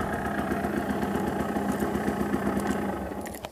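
A Gilera 50cc moped engine idles close by, a steady, even buzzing putter that holds throughout and eases off slightly at the very end.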